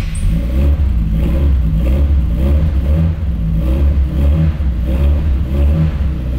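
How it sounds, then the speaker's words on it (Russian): A turbocharged Zaporozhets car with a six-cylinder engine, still cold on a frosty day, idles and revs in a continuous loud low rumble with a slight clatter, close by and without talk. "Ласкает звук, конечно, шестнаря."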